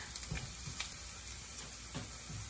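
Garlic fries in a pan for creamy pineapple chicken, giving a faint, steady sizzle with a few soft knocks from stirring.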